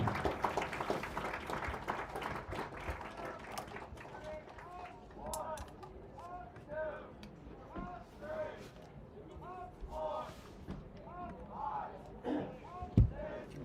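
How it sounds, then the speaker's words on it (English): Steady applause from a crowd at a high school football senior night, a dense wash of clapping that fills the space, with voices and cheers mixed in and a sharp knock near the end. "Ladies and gentlemen, a round of applause for our seniors and their parents."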